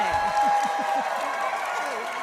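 A long, steady whistle rings out over a noisy crowd clapping and cheering at a fan Q&A event, with a few bright shouts rising and falling near the start.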